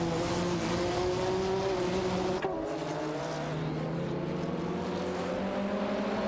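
Race cars in a video game race, including a Porsche 961 LM, a continuous loud engine drone with shifting pitch and a brief gear-change blip, close and unbroken, without voices.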